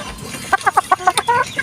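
Hens clucking in a Filipino backyard gamefowl pen, a rapid series of about nine short, bright clucks from close by, following a brief quiet start with faint background noise.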